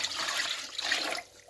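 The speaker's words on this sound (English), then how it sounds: "Then here is the spinach water." Spinach water pours into a cooking pot for ogbono soup, a steady splashing gush lasting over a second before tapering off, close and fairly loud with no voices.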